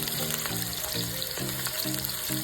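Onions and green chillies sizzle steadily in a pan with hot oil and cumin for market-style upma, a dense, constant frying hiss close to the microphone.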